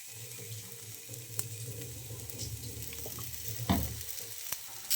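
Semolina-coated banana slices frying in coconut oil on a tawa: a soft continuous sizzle with occasional sharper crackles and a louder pop near the end, heard up close.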